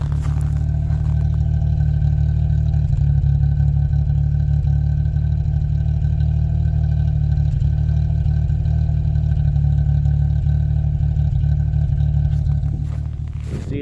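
A 1989 Chevrolet Sprint's three-cylinder exhaust idles steadily up close, a deep, slightly uneven throbbing rumble that holds for the whole stretch.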